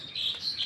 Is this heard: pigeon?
yes